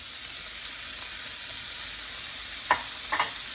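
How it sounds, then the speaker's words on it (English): Onions and mushrooms stir-frying in oil with a steady, soft sizzle throughout, broken near the end by a few brief scraping clicks of stirring. "I use the same oil to stir fry the onions and the mushroom."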